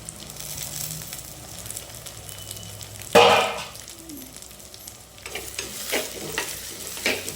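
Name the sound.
sautéing tomatoes in a clay pot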